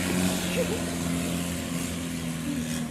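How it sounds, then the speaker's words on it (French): A boat in Thailand fitted with a truck engine passes behind, a steady droning motor with a low tonal hum that carries continuously at moderate distance. "il y a le bateau qui passe derrière, toujours au moment où on fait la vidéo"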